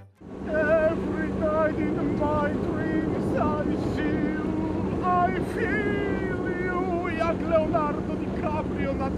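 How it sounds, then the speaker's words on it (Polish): Boat ride on open water, a steady low engine drone and wind buffeting beneath near, continuous speech and voices throughout. "Jesteśmy teraz na super łodzi."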